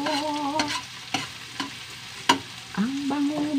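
Tilapia fries in a pan while a utensil stirs and scrapes against the metal, sharp clicks and knocks repeating irregularly over a steady sizzle and low hum.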